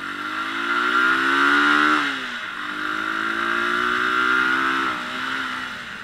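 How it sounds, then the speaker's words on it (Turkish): A motorcycle engine with a high idle is revved, twice rising in pitch to a loud, close whine and then dropping back, with a sustained engine hum between the rises. "Bu devri yüksek, rölant yüksek bir motor."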